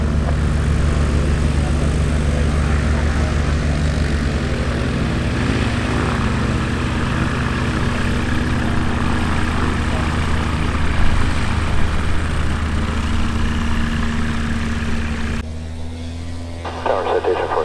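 A loud, steady droning engine hum with a propeller buzz from a propeller airplane landing on runway 36 left at EAA AirVenture Oshkosh 2019, continuous for the whole stretch and dipping slightly near the end.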